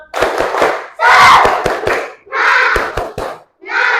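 Fourth-grade students in an Indonesian classroom perform a rhythmic spirit clap, sharp patterned claps mixed with shouted group chanting in several close, loud bursts with brief pauses between.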